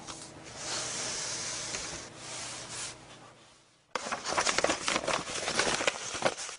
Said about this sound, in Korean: 이렇게 구겨요. 화산지를 구겨가지고 펼친 다음에